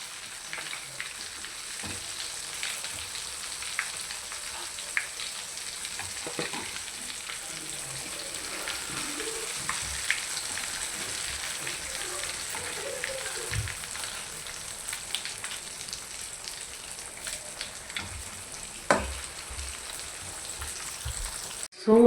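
Spicy fish deep frying in hot oil, with a continuous crackling sizzle full of fine pops, steady and moderately close for the whole stretch, with no talk.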